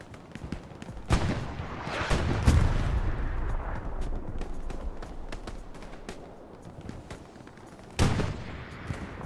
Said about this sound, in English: Artillery strike's about to land.